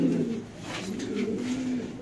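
Domestic pigeons cooing at a pigeon farm in Bangladesh, a steady run of low, throaty rolling coos that carries on for the whole two seconds, close by and fairly loud, with no voices.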